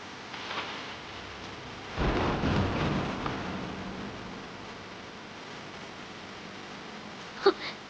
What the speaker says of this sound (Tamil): மழையில நனைஞ்சிட்டு இருக்கான்.